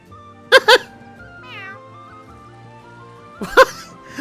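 A cat meows in a video game, The Adventures of Elliot: The Millennium Tales prologue demo: loud, close meows, two short calls near the start and another pair near the end, separated by a quieter stretch of game ambience.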